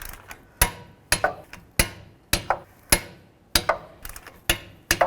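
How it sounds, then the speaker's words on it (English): A torque wrench tightens lug nuts on a Nissan Altima in a series of sharp, evenly spaced metallic clicks, close and distinct, roughly ten ratcheting snaps with no talking. "Let's torque these lug nuts to 83 foot-pounds."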